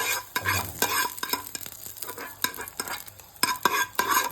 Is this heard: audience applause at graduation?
no